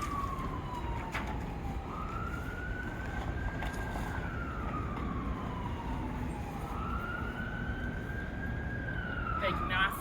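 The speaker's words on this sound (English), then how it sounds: "here comes the ambulance" An ambulance siren wails in long rising and falling sweeps as the vehicle passes, fairly loud over steady traffic rumble.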